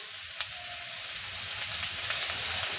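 Turmeric and salt frying in a pan for Khandeshi baingan bharit, a steady close sizzle with a few faint clinks and stirring noises, alone without talk.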